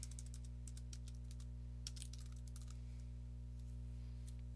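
Quiet clicks of typing on a computer keyboard come in quick irregular bursts with pauses, set against a steady low electrical hum, with no talking.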